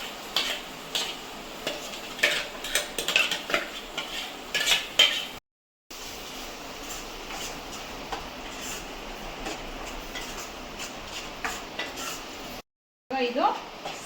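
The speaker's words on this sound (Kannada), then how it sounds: "ನಂತರ ರುಬ್ಬಿಟ್ಕೊಂಡಿದ್ದಂತಹ ಸೊಪ್ಪನ್ನು ಇದರೊಳಗೆ ಹಾಕ್ಕೊಂಡು ಒಗ್ಗರಣೆ ಮಾಡ್ಕೊಳ್ಳೋಣ" Ground greens are stirred into a hot tempering in a pan for a village-style masoppu sambar, giving close, steady scraping and swishing strokes with light metallic taps against the pan that continue for several seconds.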